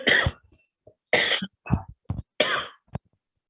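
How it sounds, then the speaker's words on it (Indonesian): A man coughs repeatedly, five or six harsh close bursts in an uneven rhythm with short gaps between them. "lihat saya lagi batuk terus ya"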